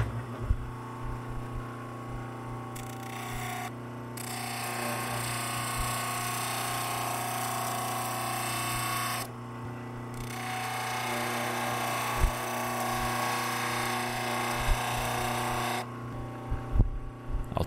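Sanding drum grinding down a steel bayonet catch for a Mannlicher 95, a continuous close whirring hum with rasping contact that briefly drops away twice as the piece is lifted and pressed back.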